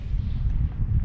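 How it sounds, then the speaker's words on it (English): Strong wind buffets a kayak out on the water during fishing, a constant low, rough rumble close to the microphone with no pauses. "wind is absolutely terrible"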